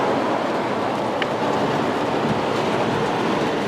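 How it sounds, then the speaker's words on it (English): Heavy rain pours during a storm in a garden, a dense, loud, unbroken roar of falling water from start to finish, with no voices. "Wow, it is just pouring over."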